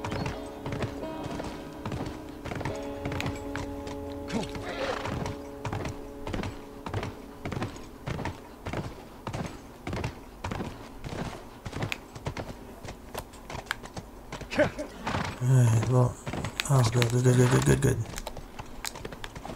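Horse hooves clip-clop in a steady rhythm in The Last of Us, a string of close, regular footfalls that run under game music and a brief spoken word, with a louder rumbling burst near the end.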